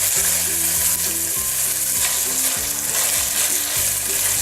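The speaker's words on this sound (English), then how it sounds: "Then reduce down with the beef. So that's getting brown on all sides." Ground beef browns in a hot pan for sloppy joes, crackling in a loud, continuous sizzle close by, broken by regular scraping strokes as it is stirred and turned.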